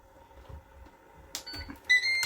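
A Ninja 15-in-1 multicooker gives a short electronic beep as its sear saute mode is switched off, bright tones following a soft clunk after a quiet stretch with faint background sounds.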